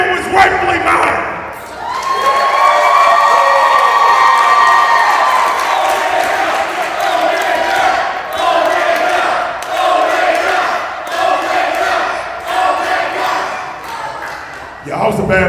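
A wrestling arena crowd cheers and shouts loudly and continuously, a dense wall of voices with whoops rising and falling over about fifteen seconds, ending abruptly.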